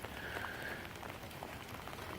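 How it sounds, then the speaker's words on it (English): Spring rain falls steadily outdoors in Oregon, a dense, even patter on surfaces that sounds close and continuous with no talking. "this is Oregon and it's springtime and it's not going to stop raining"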